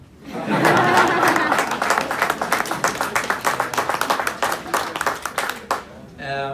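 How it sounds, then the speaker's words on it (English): An audience applauds at a Chanuka gathering in the ACT Parliament in 2019, a loud burst of many hands clapping that gradually thins into scattered claps and fades out near the end. "Thank you for that wonderful applause."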